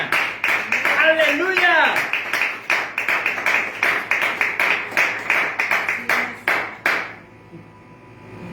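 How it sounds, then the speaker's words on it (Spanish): A church congregation claps in a quick, ragged rhythm during a morning service while a voice shouts out over it; the clapping continues briskly, then stops abruptly into near silence. "dale un fuerte aplauso al Señor en esta mañana"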